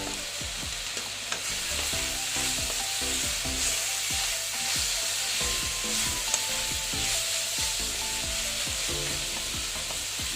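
Crushed fried lentil dumplings are stirred into betho greens frying in a pan, giving a steady close sizzle with repeated scraping and stirring knocks throughout, no voices.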